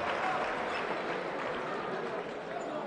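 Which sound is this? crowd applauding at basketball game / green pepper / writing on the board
crowd applauding at basketball game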